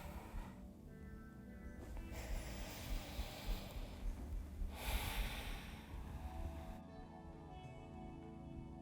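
Slow, steady breathing during a calm Yin Yoga session, with long airy exhales rising and falling over a soft continuous background, fairly close and unhurried.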